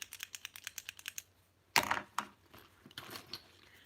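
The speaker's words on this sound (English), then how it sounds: "A clicky pen." A clicky pen snaps through a quick, regular run of about a dozen sharp little clicks, close by. A burst of rustling and a few scattered knocks follow.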